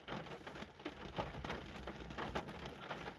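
Rain falls outside as a steady, faint, even hiss with a few slightly louder patters, with no voices over it.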